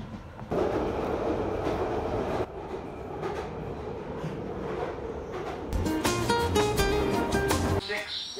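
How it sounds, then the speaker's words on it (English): London Underground Northern Line train running near Charing Cross, a steady loud rumble of wheels and carriage noise throughout, with brief tonal squeals and a swell of rattling toward the end, and talk heard over it. "This is a Northern Line train by Charing Cross, terminating at Battersea Power Station."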